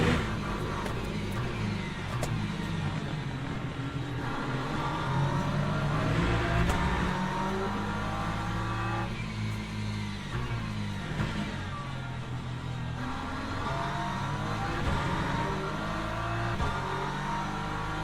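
Hypercars racing past in the video game Le Mans Ultimate, engine whine rising and falling as cars sweep through, a continuous layered roar of several machines at moderate volume, without talk.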